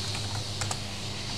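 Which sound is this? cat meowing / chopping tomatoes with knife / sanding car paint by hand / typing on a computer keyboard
typing on a computer keyboard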